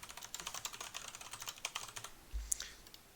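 A computer keyboard tapped in a quick run of light, close clicks, keys pressed for a Control Shift 5 shortcut, followed by a single heavier thump near the end.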